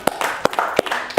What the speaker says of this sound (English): round of applause to me